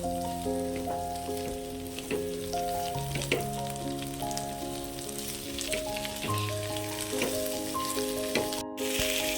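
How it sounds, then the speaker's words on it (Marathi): Halved grapes sautéed briefly in a pan for a potato-and-grape fasting dish, a steady, soft sizzle running throughout beneath continuous background music. "अशी द्राक्ष घालून थोडंसं परतून घ्यायचं आहे"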